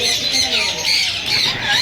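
Parrots caged at a Sunday bird market in Bahawalpur let out shrill, continuous squawks close by, with a voice heard faintly underneath.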